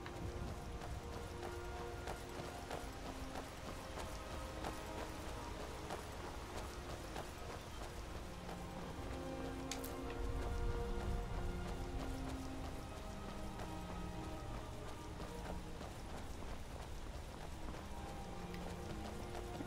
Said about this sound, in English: Ah, oh, goats. Run, goats, run.